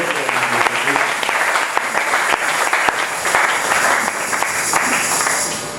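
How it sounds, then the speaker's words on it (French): A church congregation applauds steadily for the full stretch, a dense, even wash of clapping that holds at a consistent level throughout, with a few faint voices mixed in beneath it. "Applaudissez pour le Seigneur."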